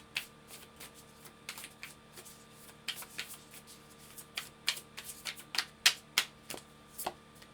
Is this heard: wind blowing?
no